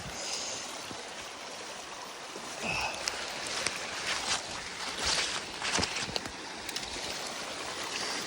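A creek flows steadily across a wilderness crossing point, a soft continuous wash of running water at moderate distance with a few light splashes and rustles near the end.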